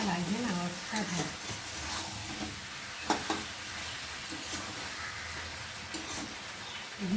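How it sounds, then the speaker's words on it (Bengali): Chicken and fried potatoes being stir-fried in a pan for biryani make a steady sizzle with scraping stirs and a few clinks, under a voice talking at moments. "চিকেনের সাথে আলুগুলো একটু ভালো করে কষিয়ে দেবো"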